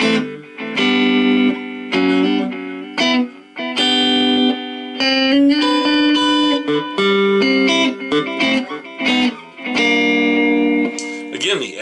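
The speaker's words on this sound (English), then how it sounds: "this is what it's going to sound like with the echo" An electric guitar played through a Roland Micro Cube amp with its echo effect on, set to the slowest speed, rings out in sustained chords and single notes with trailing repeats, loud and close.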